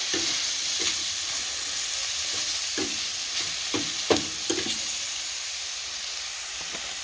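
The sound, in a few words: wild mushrooms frying in butter with pepper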